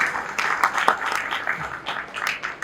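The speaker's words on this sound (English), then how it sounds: "Let's have a round of applause for all the wonderful sponsors again." An audience at an interior designers' event applauds the sponsors, moderately loud uneven clapping from a modest crowd, continuing throughout with irregular peaks.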